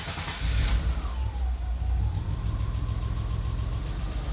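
A BMW E30 engine runs rough with a check-engine light on, likely from bad gas, its low uneven rumble close and steady throughout, with a brief rev near the start and a faint whine rising and falling above.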